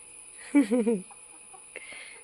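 A chicken gives a quick run of three or four clucks nearby, followed by faint background sounds in an otherwise quiet space.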